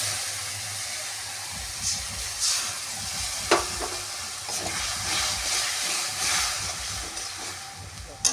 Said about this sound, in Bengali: নেড়ে ছেড়ে অল্প পরিমাণে জল দেবো।